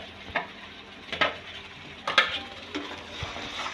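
Food is stirred in a frying pan with a sizzling background, and a utensil scrapes and taps the pan in a few irregular strokes close by, with no voices.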